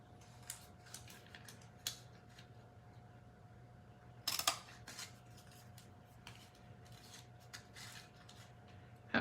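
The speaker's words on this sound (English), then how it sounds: "now I'm gonna banner cut these 2 ends." Scissors snipping card ends for a banner-style cut in a quiet crafting space, giving faint scattered clicks and a louder crisp snip cluster near the middle.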